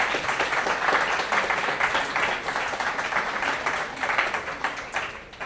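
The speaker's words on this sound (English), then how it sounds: "Let's give them a big hand, big applause tonight" An audience at a business talk on founders and investors applauds steadily, a dense wash of many hands clapping that carries on throughout at a fairly strong level.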